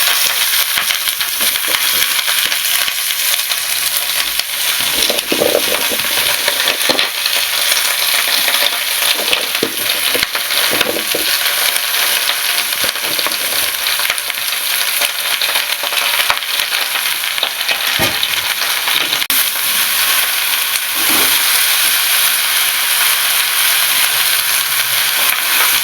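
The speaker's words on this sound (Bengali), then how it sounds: "এবার কুমড়ো শাকটা আমি একটু ভেজে দেবো।" Pumpkin greens frying with potatoes in a pan for a poppy-seed chachchari, giving a steady, loud sizzle throughout with occasional soft stirring scrapes and clinks, no voices.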